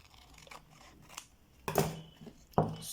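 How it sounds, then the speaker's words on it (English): Scissors trimming sandal material up close: a few quiet snips early on, then two louder, crisp cuts toward the end, with no talk over them. "now I need to trim this part."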